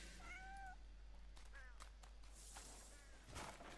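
A cat in the game Crimson Desert gives three short, plaintive meows spaced a second or so apart over a low steady background hum, fairly faint and close.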